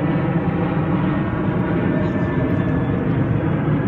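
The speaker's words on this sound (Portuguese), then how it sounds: "agora um avião. Vamos esperar o avião passar." A fixed-wing airplane passes overhead outdoors with a loud, steady engine roar that fills the whole stretch, while people play volleyball somewhere in the background.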